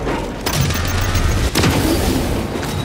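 Rocket explosions in the video game Warhammer 40K Space Marine 2, loud heavy booms layered over dense battle noise, with one sharp blast standing out in the middle.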